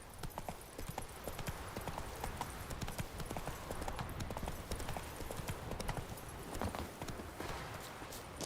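Horse hooves clip-clopping at a steady pace in The Witcher 3 video game, continuous rhythmic thuds over dense ambient game noise, close and loud throughout.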